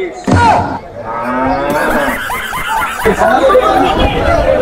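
Cattle lowing at a busy cattle market, several close moos over steady crowd chatter, with people talking nearby.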